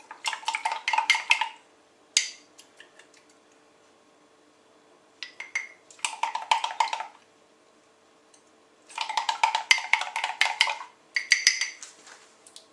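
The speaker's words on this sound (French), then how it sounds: "Mélangez un peu un œuf avec un peu d'eau" An egg with a little water is whisked briskly in a bowl for glazing choux pastry. Rapid clinking bursts of utensil against the bowl come in several rounds of one to two seconds, separated by short pauses, close and alone.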